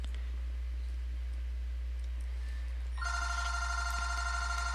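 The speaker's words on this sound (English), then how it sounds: "And there goes the phone again." A telephone begins ringing partway through, a steady electronic tone over a constant low hum and faint clicks, moderately loud and without speech.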